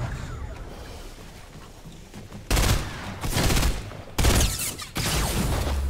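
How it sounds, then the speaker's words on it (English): Bursts of weapon fire from a burst-fire gun in Fortnite, several loud clustered volleys crackling in quick succession with no talking. "A burst fire weapon is not good at that sort of distance."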